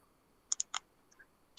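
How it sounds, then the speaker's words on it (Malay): Clicks from a computer keyboard and mouse: a few sharp, close taps in quick succession, a couple of faint ones, then a final louder click, in an otherwise quiet room. "Keyboard, mouse."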